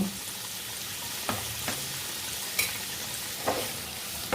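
Partly boiled taro pieces fry in hot oil with a continuous close, hissing sizzle, broken by a few soft knocks and clatters from stirring, with no voices present.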